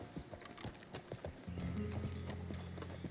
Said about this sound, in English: The horse is breathing heavily.